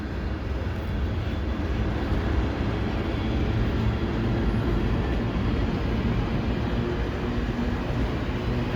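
A westbound CN freight train at blue hour, led by an ex-Citirail ES44AC locomotive, gives off a loud, steady rumble that holds for the whole stretch with no voices.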